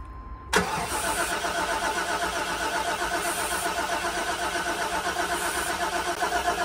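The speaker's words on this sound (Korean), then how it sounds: "연료를 강제로 넣어볼게요. 시동 한번 걸어봐." A 1995 Chevrolet van's engine, with fuel forced in and a suspected distributor fault, cranks steadily with a rhythmic, pulsing starter churn that begins abruptly and continues without catching, close and constant.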